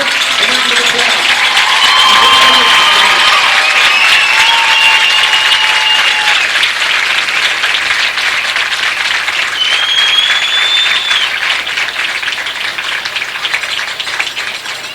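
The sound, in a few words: applause for homecoming court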